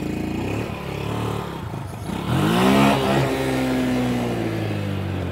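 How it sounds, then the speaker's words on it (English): A trail motorcycle engine revs hard and climbs in pitch while the rider lifts the front wheel going downhill over an obstacle. Loud and close, it holds a high, steady drone after a rougher lower run. "Now you see how I really revved up the motor there"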